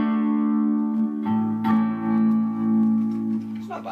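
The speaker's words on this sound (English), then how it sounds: "And then well reverb, supposedly like we're down a well." An electric guitar plays through a cheap amp with a well reverb effect, sustained chords and plucked notes ringing with a long, hollow, echoing tail, close and moderately loud.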